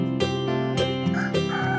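A cartoon rooster crows in a village morning scene, with a few rising and falling tonal calls repeated over almost two seconds, loud and close with no talk.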